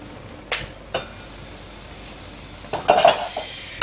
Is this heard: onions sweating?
yes